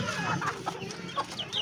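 Backyard hens cluck in short, throaty bursts at close range, several overlapping calls over about a second and a half with no talk.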